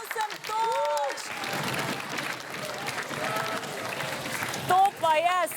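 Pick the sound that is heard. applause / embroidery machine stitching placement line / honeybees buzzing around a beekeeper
applause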